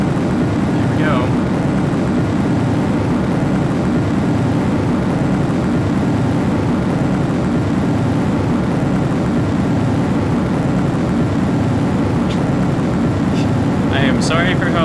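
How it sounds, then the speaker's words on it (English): Several rocket engines firing together in the game Juno: New Origins give a loud, unbroken roar that holds steady for about fifteen seconds, with a few faint higher chirps near the end. "I think they need to make multiple engines add their sound effects a little bit less, because that's a bit too much."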